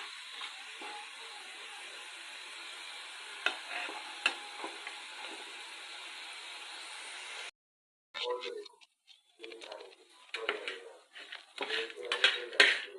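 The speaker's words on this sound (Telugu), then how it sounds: "ఈసారి చక్కగా రోస్ట్గా చేయాలని ఈ విధంగా ఫ్రై చేస్తున్నానండి" Pieces frying in oil in a pan, stirred until roasted dry: a continuous sizzle with metal utensil clinks and scrapes, a brief silent gap, then busier irregular stirring clatter.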